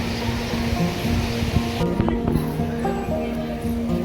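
Sea waves wash in a steady broadband roar along the shore at Kunkeshwar temple in Devgad, with faint voices nearby.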